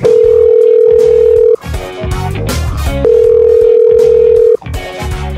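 A telephone ringback tone for a caller coming onto a Filipino radio show: two long steady beeps, each about a second and a half, loud and close, separated by busier mixed noise.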